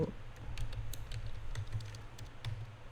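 Keyboard typing on a computer while searching from the Windows start menu: a quiet run of soft, irregular key taps over faint background hum, with no voices.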